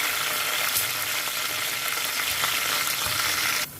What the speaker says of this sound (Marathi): हे सर्व यामध्ये घालून घेऊया छान अशी लसूण थोडी लालसर होईपर्यंत भाजी द्यायची